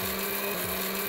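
A mixer grinder grinding whole tomatoes gives off a steady, loud motor whir with a constant hum, while the churning load adds a rhythmic low thumping beneath it.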